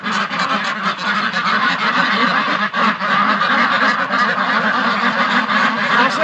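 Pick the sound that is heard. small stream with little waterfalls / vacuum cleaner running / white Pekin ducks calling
white Pekin ducks calling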